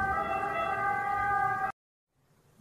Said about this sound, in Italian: Stiamo registrando e passa l'ambulanza.